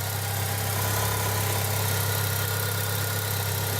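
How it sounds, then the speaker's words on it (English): A 1998 Mitsubishi Eclipse GST engine idling steadily with freshly installed injectors, a constant low hum and rumble heard close and alone, with no change in pitch or rhythm. "The car's idling fine."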